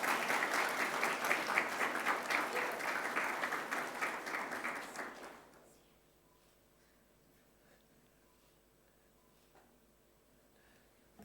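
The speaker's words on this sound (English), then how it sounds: "So a round of applause for all our field hockey players." A school sports awards assembly applauds its field hockey players, sustained clapping from a crowd that fades out after about five seconds, leaving a quiet room with faint small noises.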